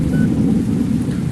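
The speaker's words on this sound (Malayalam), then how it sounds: "ഫുള്ള് മഴയാട്ടോ. നമ്മൾ വണ്ടി എടുക്കുമ്പോഴേ മഴയാണ്." Heavy rain in the Bus Simulator Indonesia game, a loud, steady low rumbling roar of rainfall with no break across the short stretch.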